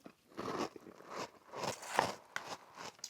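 Crunchy bites of Frosties cereal with only a little milk, heard as close, irregular crunching and chewing in a steady series of bursts.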